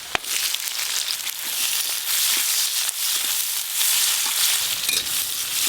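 Chopped onion frying with ginger and garlic in hot oil, giving a steady, loud sizzle and crackle with a few sharp pops.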